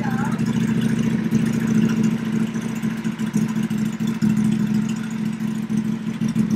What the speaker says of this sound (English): Your bike runs